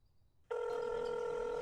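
An electronic phone ring in the indie horror video game South of Hell starts abruptly after a brief quiet moment and sustains loudly with steady bright tones to the end.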